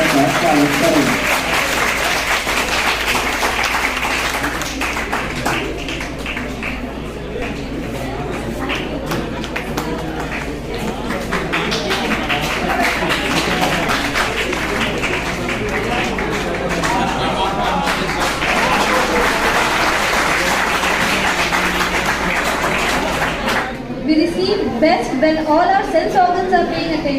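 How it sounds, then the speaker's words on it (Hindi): Audience applause welcoming a senior spokesperson at a 25th anniversary celebration of HPPI (Humana). The clapping is sustained and steady for most of the stretch, with speech running over and through it, and it thins out near the end. "आप सभी तालियों के साथ सर का स्वागत करें।"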